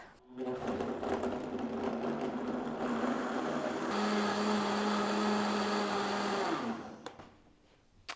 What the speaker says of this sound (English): I really just cranked it up to about level 5 on my Vitamix